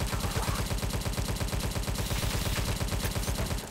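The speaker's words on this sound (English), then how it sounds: "Since I'm using a Tommy gun." Rapid, continuous automatic fire from a Tommy gun in the video game Tesla vs Lovecraft, a steady loud stream of shots with no pauses.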